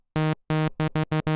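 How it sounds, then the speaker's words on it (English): A buzzy Yamaha CS-80 synthesizer saw-wave tone played as separate notes, one longer held note followed by five short, evenly spaced repeats, each cleanly cut off. "This is the default template patch of just a saw wave"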